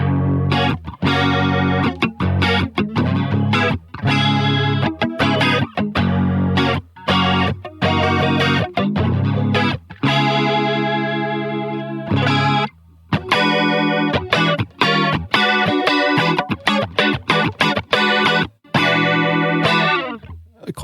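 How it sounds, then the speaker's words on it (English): Electric guitar played through an MXR Micro Flanger on a rotary-speaker-style setting, giving a swirling, chorus-like modulated tone over strummed chords and short phrases, loud and continuous with brief gaps between notes. "This is a nice rotary pedal kind of imitation."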